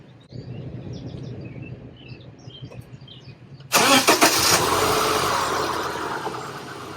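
A car engine cranks and catches sharply after a few seconds of quiet outdoor birdsong, started with an ACMOUNT jump starter, then settles into a steady, loud idle close by.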